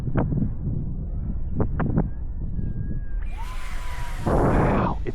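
Gusty wind rushes across an outdoor flying field for an RC F18 Super Hornet jet, a steady broadband roar with buffeting puffs, a thin whining jet tone rising in the background and a loud whoosh near the end.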